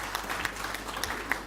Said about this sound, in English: I would request you for another round of applause for our distinguished Secretary General